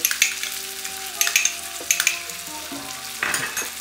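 Ginger garlic paste sizzles and fries in hot oil with nearly cooked onion and tomato for malai kofta, a steady close sizzle broken by repeated scraping stirs and a louder burst of spitting near the end; no talking.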